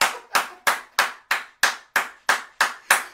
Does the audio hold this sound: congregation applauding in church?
yes